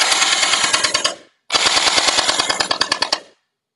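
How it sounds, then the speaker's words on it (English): A VDD Toys P90 gel ball blaster toy fires two loud full-auto bursts of rapid, evenly spaced buzzing shots, the first about a second long and the second nearly two seconds, separated by a short silence. "So we'll go ahead and shoot it."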